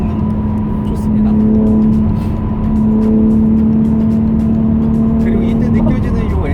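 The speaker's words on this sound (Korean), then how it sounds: "이때 느껴지는 요 엔진 소리라던가 배기 소리 너무 좋아요" Steady engine drone from a BMW X3 M being driven, holding a sustained even tone for several seconds with a brief shift midway, close and prominent inside the cabin with road noise beneath.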